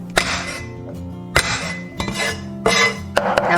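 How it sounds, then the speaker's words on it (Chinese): Garlic cloves smashed flat with the side of a kitchen knife on a cutting board, four sharp loud whacks spaced about a second apart, each followed by faint clinking and rattling, with no talking. "准备几颗大蒜，先拍碎。"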